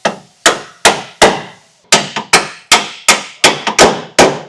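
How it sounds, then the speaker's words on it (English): Repeated hammer blows on car suspension parts while fitting suspension to a Nissan S13, about a dozen sharp metallic strikes in an uneven rhythm with short pauses, loud and close. "I know it seems like there's a lot of hammering going on, and that's because there is"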